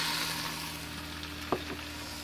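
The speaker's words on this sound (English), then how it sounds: "I have about a tablespoon and a half of tomato paste that I'm going to let that fry right in." Tomato paste frying in a pan for a chicken stew, a quiet steady sizzle under a low hum, with a single sharp utensil tap near the end.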